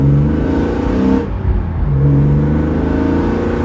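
A BMW E46 M3 engine accelerating hard through the gears, loud and close, with a steady rising engine tone, a brief dip at the shift, then pulling strongly again without any talk.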